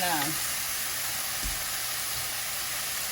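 Chicken pieces for a curry sizzle and crackle in a pan with a continuous, close hiss; a voice is heard briefly at the start.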